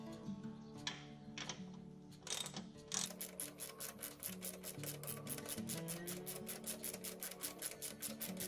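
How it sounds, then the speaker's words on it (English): A bolt is ratcheted in on a tractor, a few scattered clicks and clanks giving way to a fast, steady run of close, crisp ratchet clicks. "get this in place and hope I can get the bolt started."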